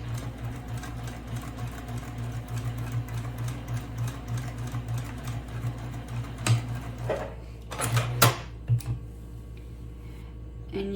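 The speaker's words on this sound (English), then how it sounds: "So let's go to the sewing machine and take care of that" A sewing machine runs in steady bursts of rapid mechanical stitching, close by, pausing briefly with a few clicks and handling noises near the end.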